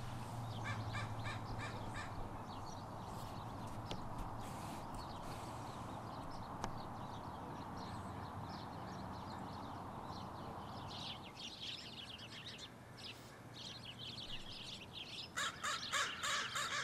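Crows caw repeatedly outdoors where they are being fed and photographed, harsh calls rising at intervals over a constant background hiss, with a busier burst of cawing near the end.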